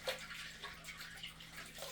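Aquarium filter media being rinsed in old tank water, a soft continuous sloshing and trickling close by, quiet and steady with no talking.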